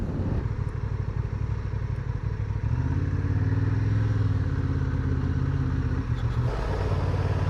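An old Honda Goldwing motorcycle engine rumbles steadily nearby, its low drone growing louder and fuller partway through before easing slightly near the end.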